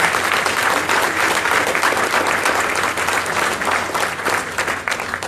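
Dense audience applause, loud and sustained clapping from many hands that stays steady throughout and eases only slightly at the end, with no voices over it.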